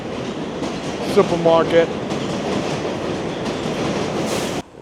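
A New York subway train passes in Woodside, Queens, a loud, steady clattering rumble of wheels on rails in a busy street setting, while a person briefly speaks nearby.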